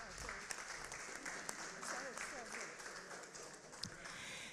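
An audience claps steadily for several seconds at a public talk about the European Parliament, a dense, even wash of applause with voices mixed in underneath.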